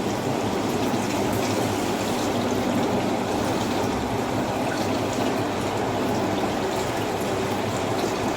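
Yakhni stock for pulao pours steadily into a pot, a continuous close splashing rush of liquid that holds an even level throughout with no voices.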